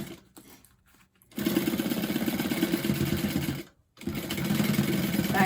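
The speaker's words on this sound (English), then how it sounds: "Back stitching on my key fob just to give it some extra support there." A sewing machine back stitches a bag key fob, a quiet hum first, then a brief pause before a loud, fast, steady whir of stitching that stops briefly and resumes.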